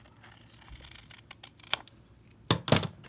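Scissors snip through notebook paper while trimming a heart-shaped card: a few quiet, crisp cuts, with a pair of sharper snips close together near the end, over a faint room background.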